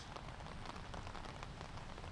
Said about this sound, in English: The rain really coming down now here in Granada.